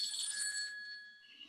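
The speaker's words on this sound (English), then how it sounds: "I just got a phone call that I need to take." Telephone ringing with an incoming call, a bright electronic trill at moderate level that fades toward the end.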